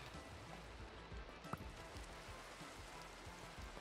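Steady rain falling in Minecraft with the ATM 9 modpack, a soft continuous hiss with faint patter throughout and one brief tick near the middle, fairly quiet and without talk.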